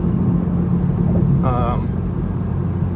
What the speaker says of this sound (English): I'm driving home in a Mark V Supra